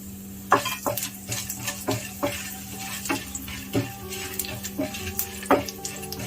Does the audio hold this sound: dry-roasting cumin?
yes